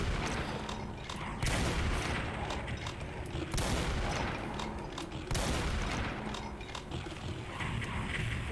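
Mancubus enemies firing in the video game Brutal Doom 64, a dense, continuous barrage of booming blasts and explosions with several heavy bursts layered over constant loud gunfire.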